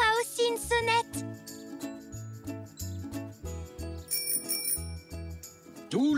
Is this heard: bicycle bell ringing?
yes